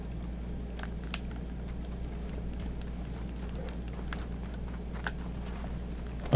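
Horse hooves clip-clopping in a video game, a steady run of soft, fairly faint hoofbeats over a constant low hum of game ambience.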